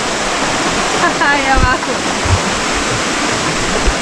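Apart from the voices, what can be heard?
river water falling in a Patagonian park, Chile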